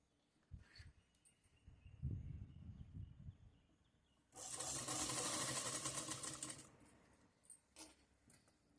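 A sewing machine stitches a zipper pocket onto trousers, running as one loud, steady burst of about two seconds, with handling clatter and small clicks before and after it.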